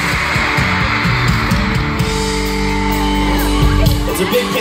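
A concert crowd in Hershey cheers, whoops and shouts over loud, pounding live music, a dense continuous roar filling the space.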